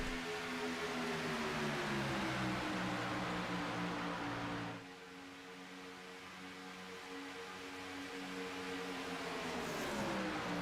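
Race car engines at Michigan International Raceway during a night race, a steady droning roar with harmonic whine that dips abruptly midway and then slowly rises again as the cars pass and accelerate. The sound is moderately distant.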